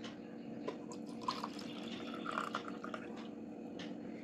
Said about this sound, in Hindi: तो अभी इसके अंदर हम डालेंगे ये वाला पानी